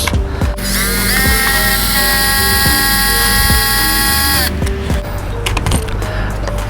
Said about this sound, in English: So let's remove some screws behind the chassis.